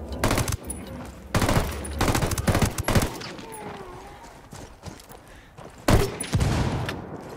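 Automatic gunfire in Ghost Recon Wildlands, with bursts of rapid shots starting and stopping across the scene, loud and close, interleaved with quieter gaps and faint game ambience.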